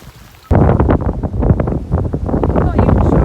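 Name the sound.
strong wind blowing on the microphone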